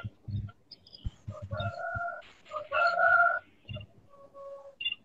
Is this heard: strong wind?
no